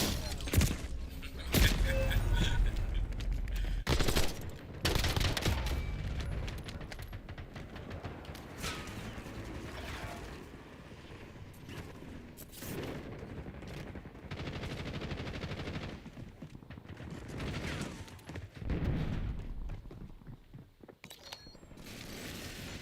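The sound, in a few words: gunfire in a shooter video game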